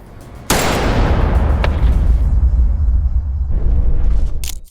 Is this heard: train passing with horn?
no